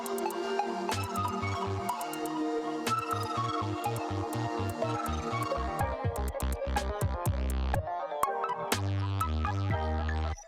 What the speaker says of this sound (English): So it adds sort of this weird kind of swell of reverb and sounds right at the very end.